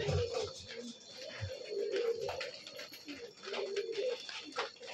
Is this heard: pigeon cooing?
yes